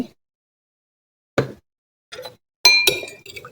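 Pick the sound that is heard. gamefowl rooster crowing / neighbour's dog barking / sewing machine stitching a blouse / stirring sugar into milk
stirring sugar into milk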